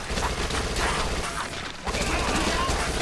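Dense, continuous gunfire and clattering mechanical action from a zombie shooter game, a loud rapid burst with a short lull near the middle before the firing resumes.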